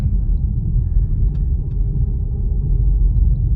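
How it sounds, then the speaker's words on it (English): A car drives through calm residential neighborhoods on the edge of a Colorado town, heard from inside as a steady low rumble with no other sounds. "Just driving around right now, driving through the neighborhoods."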